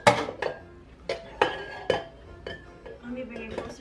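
Cookies n cream cookie dough with brown sugar being mixed in a bowl, giving a few sharp spoon clinks and scrapes against the bowl, close and fairly loud, spaced irregularly with quiet gaps between.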